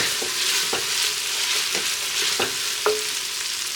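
Carrots sautéing in a pot for Mediterranean couscous, a continuous close sizzle with a spoon stirring and knocking against the pot several times at irregular intervals.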